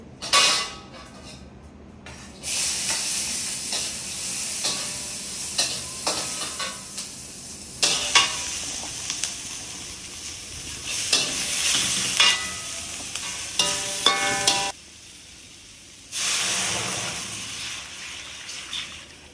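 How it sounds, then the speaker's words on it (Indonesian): Mustard greens and spring onion stir-fried in a pan, with loud bursts of sizzling and repeated scraping and stirring strokes that come and go in uneven stretches, with short quieter gaps between. "Ini aku pakai sawi hijau, daun bawang sama sesin. Tapi aku mau tumis ini dulu."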